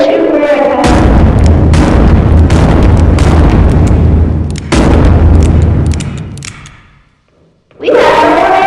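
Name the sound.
gunshots fired at an iPad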